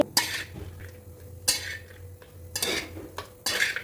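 Frozen chickpeas tipped into a metal kadai and stirred, giving sharp scraping clatters of a spoon against the pan in several separated bursts, close and moderately loud, with no speech.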